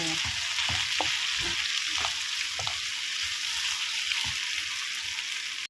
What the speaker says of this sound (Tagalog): Now I add the lady's finger.